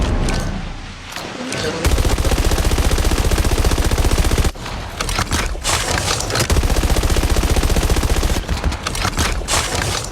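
Machine gun fire from a Hades gun in a shooting video game, long sustained bursts of rapid automatic shots broken by short pauses, loud and close.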